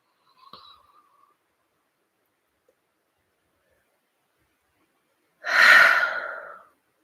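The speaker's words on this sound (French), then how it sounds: "Prends une longue et profonde respiration et demande à lâcher." A long, deep breath during a guided meditation: a brief faint intake near the start, a quiet pause, then a full, breathy exhale near the end, close and alone.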